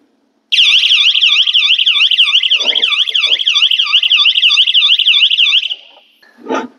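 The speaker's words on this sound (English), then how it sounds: "this device, which has a siren and a light built in together" An audiovisual alarm device with a built-in siren and light, used with an IP camera setup, sounds a loud, close warbling siren. The wail rises and falls rapidly and steadily for about five seconds, then cuts off, followed by a brief faint noise.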